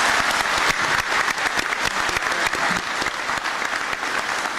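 Close, loud applause from the audience at President Reagan's 1981 speech, a dense, continuous wash of clapping hands that keeps an even intensity throughout.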